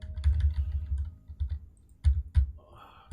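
Keystrokes on a computer keyboard while a WPF application is built in Visual Studio 2022, arriving as close, fairly loud clusters of rapid taps with short pauses between bursts and no talking.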